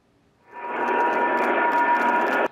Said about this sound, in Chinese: 英国皇家空军的军机跟战斗机飞越英国唐宁街上空